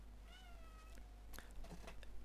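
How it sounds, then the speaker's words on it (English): A pet cat meowing indoors, one soft, fairly faint drawn-out meow followed by light rustling and small noises. "we've got a cat who's meowing"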